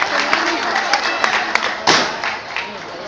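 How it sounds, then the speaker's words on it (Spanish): Audience applause at a school farewell for departing sixth-grade students after their dance, a dense, steady wash of many hands clapping that swells near the middle and fades slightly toward the end. "Brindemos un fuerte aplauso, pero bien fuerte, a ellos que hoy se despiden de esta institución"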